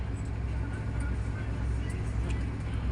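Road traffic on the way to Dingalan, Aurora Province, heard from inside a vehicle as a steady low engine and road rumble, with faint passing noise and no talk.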